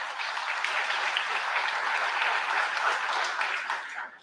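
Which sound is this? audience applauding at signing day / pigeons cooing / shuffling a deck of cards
audience applauding at signing day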